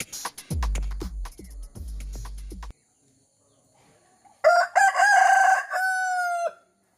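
Hens and a rooster in a dense forest clearing, with loud repeated low clucking and squawks at the start, then a quiet gap, then one long, drawn-out cock-a-doodle-doo crow close by.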